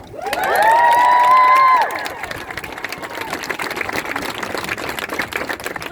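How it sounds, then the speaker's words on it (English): An outdoor crowd at a Los Angeles protest march bursts into applause and cheering, with loud whoops and whistles at first, then scattered clapping and shouts that continue at a lower level. "Can we get a round of applause for them?"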